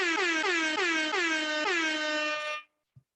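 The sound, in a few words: air horn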